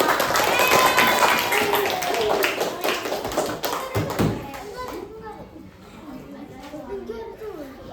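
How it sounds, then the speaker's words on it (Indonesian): A classroom of children claps together at a teacher's prompt, a dense burst of hand claps with young voices and chatter mixed in, thinning into scattered taps and talk toward the end. "Tepuk tangan dulu kita semua."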